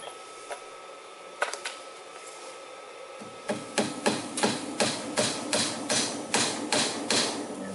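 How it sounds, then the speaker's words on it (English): Hammer driving a tab into a wooden 2x4 frame for portable greenhouse shelves, a couple of isolated knocks, then a steady run of about a dozen evenly spaced, sharp, close blows. "put that tab down, hammer it in, hold it in place"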